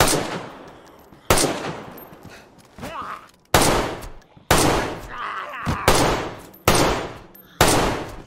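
Heavy rifle shots in the DayZ game fire one at a time at a steady, unhurried rhythm, each crack loud and close with a decaying tail, and no voices over them.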